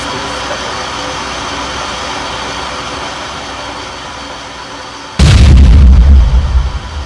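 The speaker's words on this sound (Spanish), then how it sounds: "Básicamente una fuga, incendio, explosión." Gas leak fire and explosion: a steady roaring rumble gives way suddenly to a loud, deep blast whose heavy boom fills the last two seconds.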